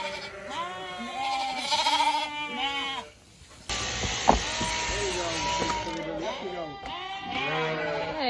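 On a Peak District sheep farm during shearing day, a chorus of sheep and lambs bleats continuously in overlapping, wavering calls, close and fairly loud, with a brief pause and some clattering in the background.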